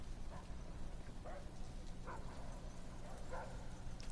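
Dogs bark in Call of Duty: Black Ops, a video game. About five short, muffled barks come at irregular intervals over steady game noise.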